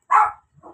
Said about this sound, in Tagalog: May ngayong mga aso.